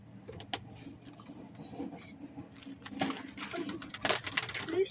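Several pigeons coo softly inside a cage, with low murmuring calls and some faint rustling and clatter in the background.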